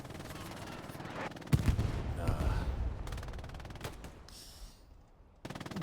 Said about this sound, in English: even with the explosion